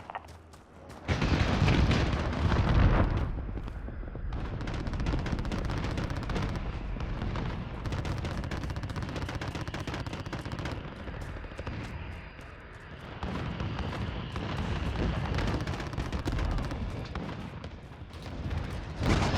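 Cruise missile strikes in the video game Call of Duty Modern Warfare, a sudden loud blast followed by sustained heavy rumbling and crackling gunfire-like bursts, dense and continuous with a brief lull midway.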